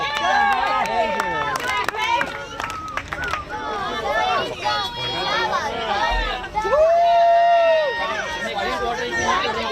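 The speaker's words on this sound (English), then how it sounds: "Let's hear those cheers." Crowd at an Independence Day eating contest yelling and cheering in bursts of shouts and whoops, dense and close, with excited overlapping voices throughout.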